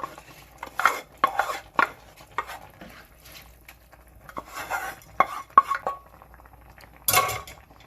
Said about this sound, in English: Now I'm going to add my rice, my washed rice